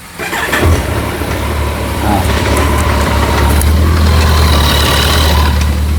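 A low-mileage Kawasaki motorcycle engine cranks and catches about half a second in, then settles into a loud, steady, close idle that holds without a break.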